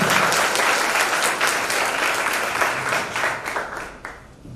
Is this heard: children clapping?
yes